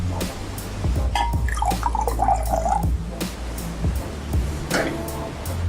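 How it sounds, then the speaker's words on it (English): Cold brew coffee poured over ice in a glass for an iced coffee, a close gurgling trickle with a few clinks of ice, fairly loud and alone with no voices. "And then you're going to add 1 part of your cold brew"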